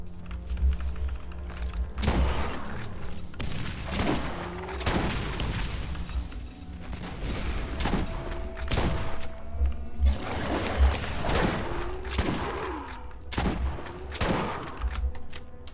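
Shotgun blasts from Lilith's weapon in the Borderlands video game, a dozen or so sharp booming reports at uneven intervals over a steady low game soundscape, with no talking.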